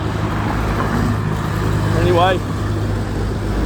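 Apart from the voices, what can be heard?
road traffic passing on a walk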